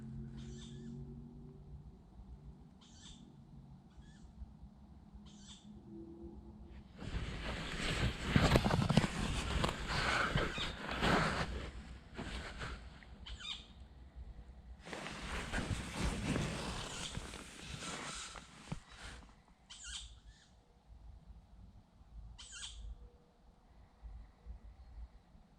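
Little owls calling at night near a camp-a-box, with repeated short sharp calls over a quiet background, interrupted by two long stretches of loud broadband noise.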